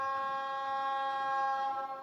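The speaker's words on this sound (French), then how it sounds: "On va tester le klaxon." A sustained car horn honk in the video game Fortnite, a steady flat tone held for about two seconds, loud and alone without talk.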